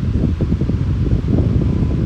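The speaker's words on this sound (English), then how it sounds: "a high velocity fan with the startup sound" A Lasko 20-inch high velocity fan runs with a dense, steady low whoosh and rumble of moving air, loud and close, with no voices.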